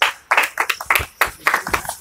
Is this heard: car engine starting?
no